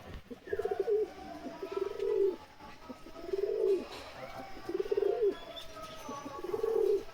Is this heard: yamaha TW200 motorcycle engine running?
no